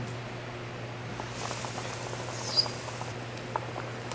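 Curry fish with peas simmers in a pot, a quiet steady bubbling with faint pops and a low hum in the background, one or two slightly sharper ticks standing out.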